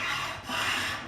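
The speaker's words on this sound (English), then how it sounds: "These things are brilliant, the old Japanese saw rasp." Short rasping strokes of a Japanese saw rasp carving a wooden neck for a three-string cigar box guitar, a close, fairly soft scraping with a brief pause between two passes.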